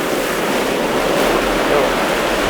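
Strong ocean surf pounding against coral rocks, a loud continuous roar of breaking waves and rushing water with wind buffeting the microphone throughout.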